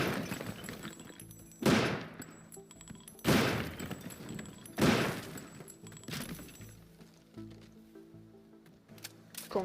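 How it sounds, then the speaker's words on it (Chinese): Bursts of gunfire from a weapon tearing apart the destructible voxel world of the game Teardown: four loud, sharp blasts spaced about a second and a half apart, each followed by crumbling debris, then quieter rattling. "这个霰弹枪没子弹了，它是和这个枪是连同的一块儿，咱们用这个枪来破坏，"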